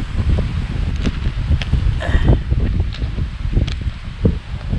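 Gusty wind rustles and buffets a lakeside campsite at Kaliraya, with steady broadband noise and scattered crackling, loud and close with no talk.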